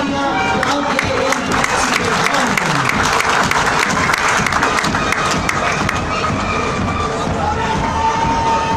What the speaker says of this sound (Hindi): आपकी भरपूर तालियां काम के लिए